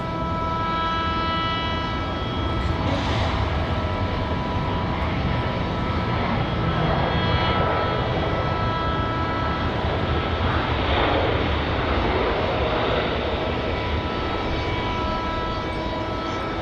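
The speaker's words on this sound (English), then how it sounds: "Here comes our flight from Miami." An airliner arriving on a flight from Miami at Raleigh-Durham International: a steady, loud engine roar with a droning, tonal whine holds throughout, the sound rising slightly and sweeping as the aircraft moves past.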